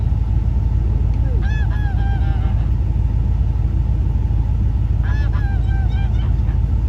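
Two bursts of goose honking, a few calls each, rise over a constant low rumble of traffic or wind.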